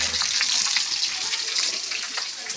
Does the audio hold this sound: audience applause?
no